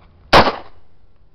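A single loud, close gunshot from a Tokarev 7.62x25 pistol fired at a plate, a sharp crack with a brief ringing decay, no talk.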